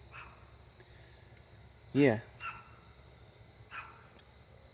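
A dog at a home gives one loud bark, followed by a couple of fainter yips, with a brief word of talk nearby.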